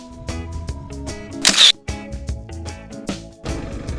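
A camera shutter fires repeatedly during a solo motorcycle ride in the mountains near Chiang Mai, Thailand, giving quick mechanical clicks mixed with steady music playing in the background.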